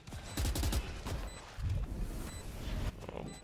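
Gunfire in Valorant, a wall bang during a pro match, comes as bursts of rapid shots over game noise and ambient crowd sound, with short gaps between volleys.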